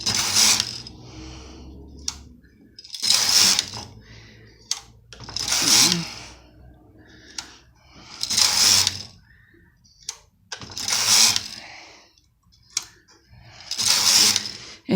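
A Brother KH 587 knitting machine carriage runs across its needle bed knitting rows of yarn, giving six loud, evenly spaced rattling, clicking passes a couple of seconds apart with quieter mechanical ticks between them.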